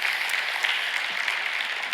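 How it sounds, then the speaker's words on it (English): Conference audience clapping for the day's speakers, a steady, moderately loud wash of applause filling the short moment without a break. "Let's give a big round of applause for all the speakers we had today."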